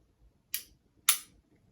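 A pistol trigger is dry-fired through its wall, break and reset, giving two crisp, sharp mechanical clicks about half a second apart, close up and alone in an otherwise quiet room.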